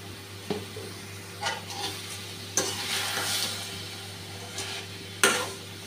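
Grated coconut and sugar stirred in a pan for pitha, a soft continuous sizzle with scattered spatula scrapes and a louder knock near the end, close and without talk.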